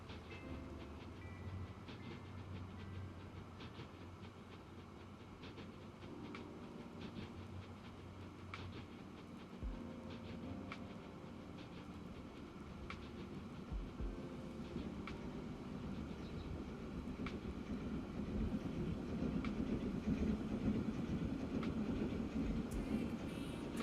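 Trains rumble along the tracks in the Transport Fever 2 game, with rolling wheel noise and scattered clickety-clack over rail joints, a steady mid-distance drone that swells slightly toward the end.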